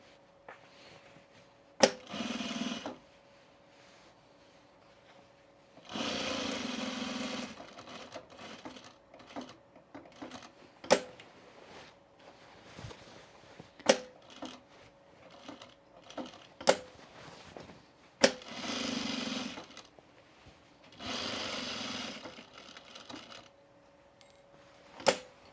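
A sewing machine stitches the seams of a pair of overalls in several separate bursts of rapid whirring, each run a couple of seconds long. Sharp clicks and knocks fall in the pauses between runs, all close by and with no talk.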